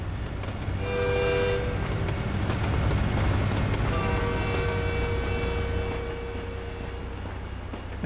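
A short train passes in American Truck Simulator, heard from a truck cab near San Antonio to Brownsville as a steady rumble of rail cars with brief horn-like tones rising and fading over several seconds.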